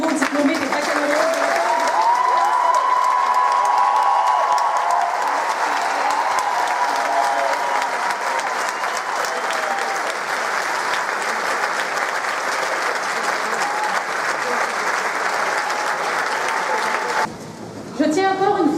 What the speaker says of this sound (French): Applaudissons chaleureusement les nouveaux diplômés des baccalauréats.